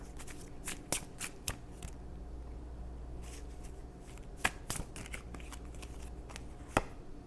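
A deck of tarot cards is shuffled and drawn, giving crisp, close riffling snaps and flicks in irregular bursts against a quiet background.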